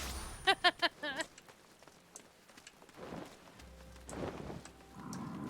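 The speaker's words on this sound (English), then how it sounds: "Rain in the desert." Rain falls in the desert of Final Fantasy XIV as a soft, steady hiss beneath in-game sounds, opening with a short burst of chirpy electronic chimes and followed by quiet muffled murmurs.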